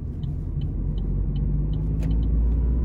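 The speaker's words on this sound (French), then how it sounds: "Après le 3 cylindres il est là. Avec le petit turbo." The three-cylinder turbo engine of a 2019 Opel Corsa hums steadily from inside the car while driving, a low even rumble with faint intermittent high ticks over it.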